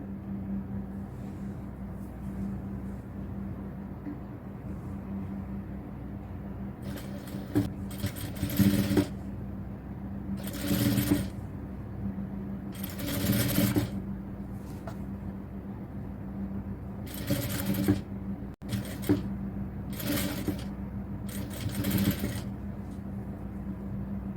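A sewing machine stitches lace onto a cotton top in a small garment workshop, running in several short bursts of steady whirring over a constant low motor hum, with pauses between passes.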